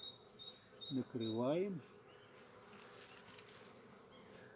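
Honey bees buzz around beehives in an apiary in Belarus, a dense, steady, close hum with a voice speaking briefly over it.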